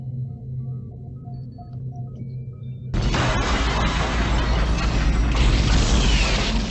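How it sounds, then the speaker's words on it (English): Explosions rock a starship, opening with a low mechanical hum and faint electronic tones, then a sudden heavy roaring blast of rumbling noise that sustains loudly to the end. "Explosions rock the Reliant."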